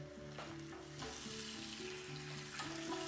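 Tomato stirred into a sizzling Burmese curry in a pan, a steady close frying hiss with intermittent scraping strokes of the spoon.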